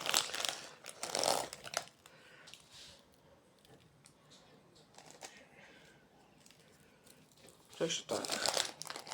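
Baking paper crinkles and rustles while tofu is being made with plenty of salt, in loud bursts at the start and end with quieter handling between, and a voice briefly speaks.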